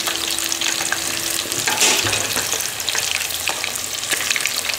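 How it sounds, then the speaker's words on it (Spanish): Chicken wings frying in hot oil, a dense, steady sizzle and crackle close up, with occasional stirring clicks and pops throughout. "Y vamos a freír todas nuestras alitas"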